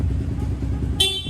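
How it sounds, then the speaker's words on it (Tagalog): A stock horn on a Yamaha Sniper 155 motorcycle gives a short, loud honk near the end, over the steady rumble of the idling engine close by. "Sir, pa stock horn naman."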